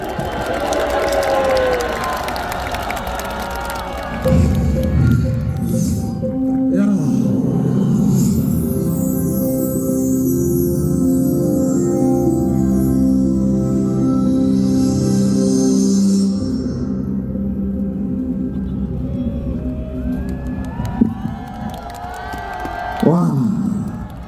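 Large crowd at an outdoor rally in Cheonggye Plaza opening a launch ceremony, applauding and cheering loudly and steadily across the whole stretch, with broad crowd noise and some voices mixed in.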